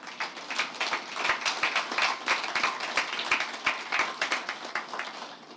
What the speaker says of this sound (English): let's give them a resounding round of applause